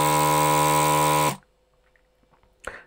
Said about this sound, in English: Hopefully you can also tell there's a difference in the fan noise